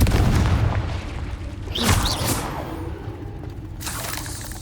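Confringo explosive spell blasts in the Hogwarts Legacy video game: a deep rumbling boom that swells and fades, followed by a second sharp burst with crackling debris, then a lingering low roar.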